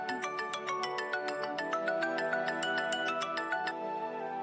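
A phone ringtone plays on its own in a Marathi TV serial scene, a bright repeating electronic melody with regular beeping notes for nearly four seconds before it stops. Nobody talks over it.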